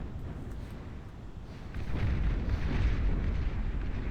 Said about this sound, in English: torn asunder by the Fat Boys. Firing away into the distance.